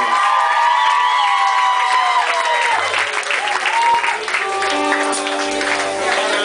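A concert crowd claps and cheers loudly and continuously for a performer, with whoops and shouts mixed into the applause.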